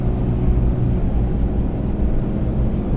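A steady, heavy diesel engine drone from a Ram 2500 pickup towing a trailer in a mountain snowstorm, loud and close, holding an even low rumble throughout.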